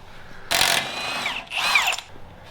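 A power tool unbolts parts on a Toyota Tundra during suspension work, giving two close, loud whirring bursts that rise and wind down in turn.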